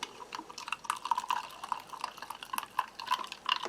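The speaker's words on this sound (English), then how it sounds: "and then add a little bit of hot water" Hot water pouring into a glass of Taiwan Army ration mix, a soft, close trickle with small splashes and drips, fairly quiet and steady throughout.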